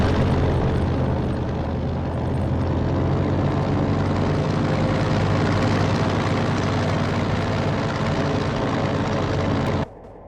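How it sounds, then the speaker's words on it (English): A reconnaissance plane flies over a battlefield in the Company of Heroes 2 video game, its engine a steady, loud, droning roar that holds for about ten seconds before dropping off abruptly at the end. "Friendly reconnaissance plane is inbound!"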